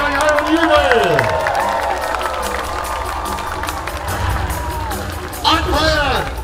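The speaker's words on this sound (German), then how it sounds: "Hört euch euren Jubel." Audience at a knight tournament show at Schloss Thurn amusement park cheering and whooping loudly, crowd noise rising again near the end, with an announcer's amplified voice talking over it.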